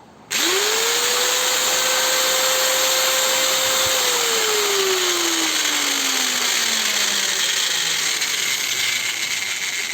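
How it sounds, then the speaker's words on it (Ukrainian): A sparking electric motor with noisy bearings spins up with a sharp start, whines steadily, then winds down slowly, with a continuous rough grinding hiss underneath. "чути, що підшипники також шумлять"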